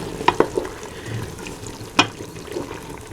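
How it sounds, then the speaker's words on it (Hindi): A soft sizzle of hot oil poured into a pan for bottle gourd curry, punctuated by a few sharp clinks and taps of a utensil. "उसको थोड़ा सा फ्राई करके वही ऑयल जो है मैंने इसमें डाल दिया"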